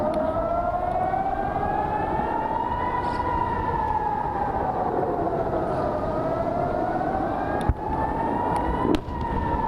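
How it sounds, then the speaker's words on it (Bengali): A loud civil defense missile-attack warning siren wails continuously, its pitch rising and falling slowly in a long sweeping cycle, with brief knocks near the end. "মিসাইল হামলা হয় তখন সাইরেন বাজিয়ে নাগরিককে সতর্ক করা হয়"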